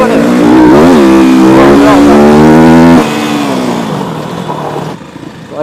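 A 2016 SWM RS 300R motorcycle revs hard while riding fast along dirt trails, its engine note climbing through rising harmonics, then dropping abruptly to a lower, rougher drone.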